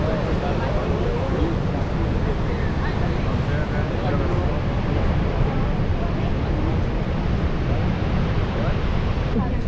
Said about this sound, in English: The monster waves are all happening right there just below the farol.